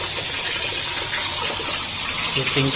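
Steady rush of water flowing after the main valve is opened, loud and continuous, like a tap or pipe running at full pressure, from a repaired angle valve joint.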